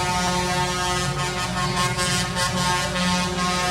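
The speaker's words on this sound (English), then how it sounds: "these guys are always honking their horns" Truck air horns blare continuously at a street protest in Canada, several loud sustained tones overlapping with engine rumble close by, with no pauses and no voices standing out.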